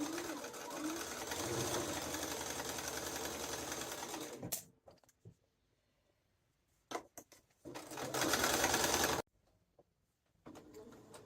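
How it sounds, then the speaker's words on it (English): A domestic sewing machine stitches a 5/8-inch seam toward a side slit, running steadily for about four seconds, then pausing, firing a few short bursts, and finishing with another sustained run before stopping. "And you're going to sew till you get to the side slit here."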